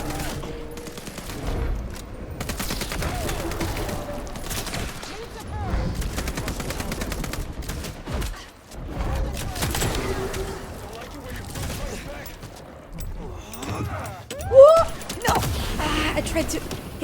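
Gunfire in the video game Vampire: The Masquerade Bloodlines 2, bursts of rapid shots and fusillades scattered through the scene under an ongoing mix of game sounds and a voice talking.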